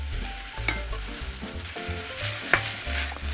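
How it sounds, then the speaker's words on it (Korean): Diced onion, one large one's worth, frying in olive oil in a pan for baked beans: a steady close sizzle broken by a few sharp utensil taps and scrapes. "노릇노릇하게 볶아줄게요."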